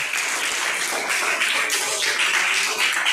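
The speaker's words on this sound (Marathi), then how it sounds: "त्यांच्यासाठी एक जोरदार टाळ्या" Audience at a school cultural day applauding, a dense, steady wash of clapping lasting a few seconds without pause.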